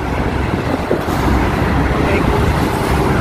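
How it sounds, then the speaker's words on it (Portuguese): Steady road traffic noise rising from below a footbridge, a loud continuous roar of passing vehicles filling the whole stretch without pause. "E trânsito aqui,"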